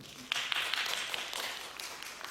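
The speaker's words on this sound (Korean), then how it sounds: "박수 한번 보내주시죠, 여러분" A crowd claps together in a soft, distant round of applause that holds steady for a couple of seconds.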